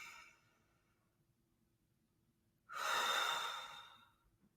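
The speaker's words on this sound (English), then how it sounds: "I'm breathing in again just because I'm talking too much" A slow, deep breath during a mindfulness session, with a soft exhale trailing off at the start, a pause, then a long airy inhale close to the microphone.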